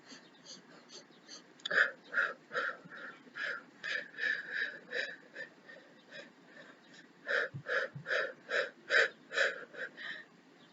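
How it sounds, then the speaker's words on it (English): Heavy rhythmic breathing during a power yoga flow, with strong repeated exhales and sharp wheezy breaths that come in clusters. Some pauses fall between the clusters, and no talk is heard. "And then breathe it all out."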